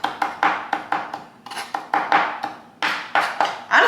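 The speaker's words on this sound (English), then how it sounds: "I do have fresh thyme, so I'm just going to chop that up" A knife chopping fresh thyme on a cutting board: quick, crisp, repeated taps in an uneven rhythm, close and clear with no talk.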